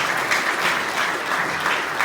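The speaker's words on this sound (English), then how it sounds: "give them a big round of applause" Audience applause at a vinyl record convention, a steady dense wash of clapping with no voices over it.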